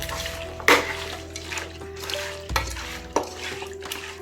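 Oil stirred into marinated mutton for biryani, heard as wet stirring and squelching with a few sharp knocks of the utensil against the container and a faint steady hum behind.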